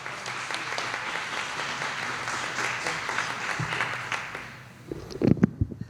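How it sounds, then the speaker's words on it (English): An audience at a township event claps to welcome the township clerk, with sustained even applause that fades around five seconds, followed by a few close handling bumps. "please give a rounding applause and welcome to our clerk, Karen Yarborough."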